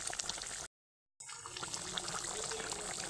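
Tengra fish curry in an oil-and-chilli gravy simmers in a pan, giving a steady bubbling hiss that cuts out briefly before resuming at the same even level.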